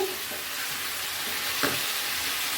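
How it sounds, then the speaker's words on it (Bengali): Mixed winter vegetables being stirred in a sizzling pan: a steady frying hiss broken by a couple of scraping strokes of the spoon, with no one speaking. "আবার একটু নেড়ে দিলাম"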